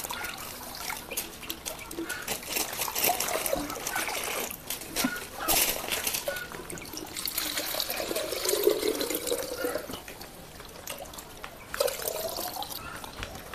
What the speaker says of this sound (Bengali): এখন আমরা এটা পানিটা প্রস্তুত করে নিচ্ছি